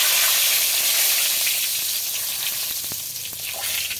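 Dried red chillies and bay leaves go into hot oil with cumin for a Bengali egg and spinach dish, giving a loud bright sizzle that settles into a steady hiss with a few light pops and clicks.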